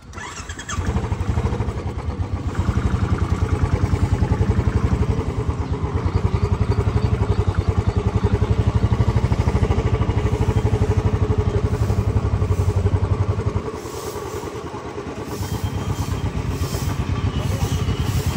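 A Royal Enfield motorcycle on a monsoon ride to Malshej Ghat thumps loudly and continuously with a close, steady engine beat that dips briefly before picking up again.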